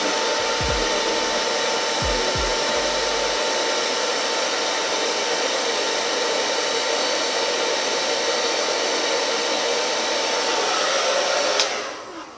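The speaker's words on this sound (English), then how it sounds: "Use our hair dryer from afar on a low setting." A hair dryer on a low setting, held at a distance to style a wig, runs continuously with a steady whooshing hum for several seconds, then cuts off near the end.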